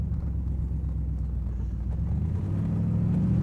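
A 1971 Pontiac Firebird engine rumbles steadily while driving, a deep low drone heard from inside the car that rises slightly in pitch toward the end as it accelerates.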